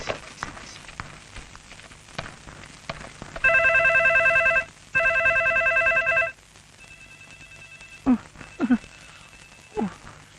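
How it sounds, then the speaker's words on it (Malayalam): A telephone rings on an unanswered call, two long loud electronic ring bursts separated by a short gap, with a faint tone trailing after and scattered knocks and footsteps around them. "റിങ് ചെയ്യുന്നുണ്ട്, എടുക്കുന്നില്ല."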